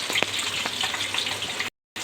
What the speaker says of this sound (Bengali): মাছটা ভেজে নিই